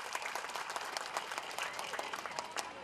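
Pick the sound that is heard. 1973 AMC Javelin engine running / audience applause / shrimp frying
audience applause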